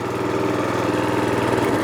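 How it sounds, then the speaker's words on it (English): Trailmaster Hurricane 200x mini bike engine idling a little high, a steady close chugging putter with fast regular pulses and a constant loud drone, no talk over it. "Goes idling a little bit high right now,"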